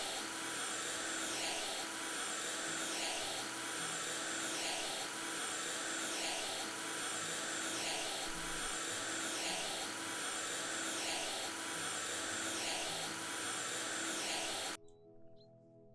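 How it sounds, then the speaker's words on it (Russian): Constant loud whirring drone of a window vacuum cleaner being run over glass in House Flipper, steady for about fifteen seconds and then stopping abruptly. "Мы будем вот этим пылесосом для окон мыть."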